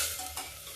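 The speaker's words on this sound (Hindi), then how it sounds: "मेरा प्याज भून गया है, अब हम टमाटर डाल देते हैं।" Tomatoes go into fried onions and are stirred, giving a brief burst of hissing sizzle with a soft scrape, close and short.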